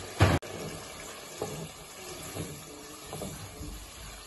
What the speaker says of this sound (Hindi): अब हम इसमें पानी डालेंगे, थोड़ा सा गर्म पानी।